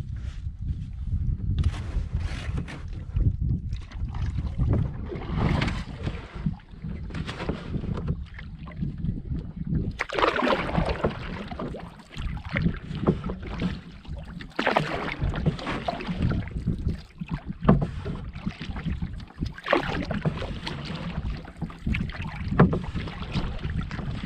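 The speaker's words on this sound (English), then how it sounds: "time to paddle." A canoe is paddled on the French River, with steady strokes and water swishing amid constant wind buffeting the microphone, close and continuous with no speech.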